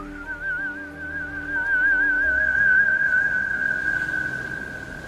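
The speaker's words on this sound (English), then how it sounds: "He puts it to his lips and blows a sharp," A small, intricately carved whistle gives a sharp, sustained, slightly warbling tone that swells and holds for a few seconds, clear and close over a low, quiet background.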